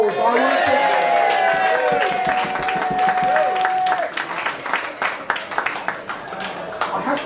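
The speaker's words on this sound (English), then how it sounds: "Please give them a big round of applause." Party guests at a 50th birthday celebration applaud live musicians, clapping breaking out over a held musical tone at first, then continuing alone as uneven, lively clapping from a small crowd.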